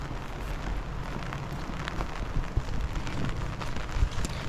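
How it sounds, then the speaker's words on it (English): Heavy rain pours down at an allotment beside a polytunnel, a steady dense hiss with low rumbling drumming throughout and a couple of sharper knocks. "it's absolutely pouring down with rain"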